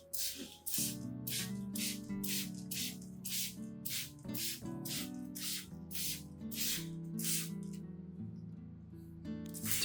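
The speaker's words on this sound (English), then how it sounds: "hold the spray bottle about 20 to 30 centimeters away from the leaves and spray lightly in a sweeping motion" A handheld spray bottle mists orchid leaves in quick, evenly spaced hissing puffs, a dozen or so in a steady rhythm, soft and close over a background of music.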